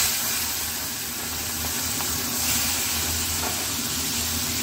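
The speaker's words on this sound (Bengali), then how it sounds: "চিংড়ি মাছগুলো ভেজে" Prawns seasoned with salt and turmeric fry in a pan, giving a continuous, even sizzle and hiss at moderate loudness with faint crackles, and no one speaking.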